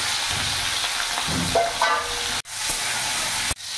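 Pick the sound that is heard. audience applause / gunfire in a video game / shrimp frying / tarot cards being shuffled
shrimp frying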